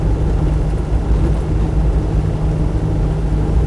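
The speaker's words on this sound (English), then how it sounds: "Lugging well in 5th gear now." Steady, low diesel drone from a Land Rover Defender 90 300Tdi lugging in 5th gear, a constant deep rumble with road and wind noise and no breaks.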